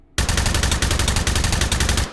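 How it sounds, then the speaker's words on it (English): Suppressed machine gun firing in the video game H3VR, one continuous rapid burst of muffled, gassy shots lasting about two seconds, loud and close with no talking. "I'm actually going to grab a suppressor so that we can just listen to the mechanics here"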